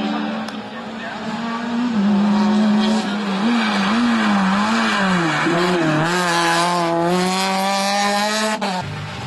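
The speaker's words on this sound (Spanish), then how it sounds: "Vehículo 35 de Jesús María Lemes Espinosa con el Renault Megane Coupé" A Renault Megane Coupé race car climbs a hill-climb course, its engine loud and near, rising and falling through gear changes as revs climb, with brief tire noise and no pause in the roar.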